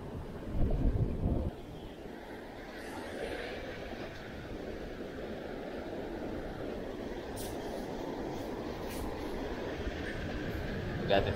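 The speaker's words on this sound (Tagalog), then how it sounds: "Malakas yung hangin eh." Steady, loud rushing roar of strong wind buffeting the microphone at a seaside fishing spot, with a brief louder gust near the start and faint voices underneath.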